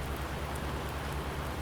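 Steady in-game rainfall from Farming Simulator 19 fills the whole stretch as a constant, even hiss of drops on surfaces, with no voices or other sounds over it.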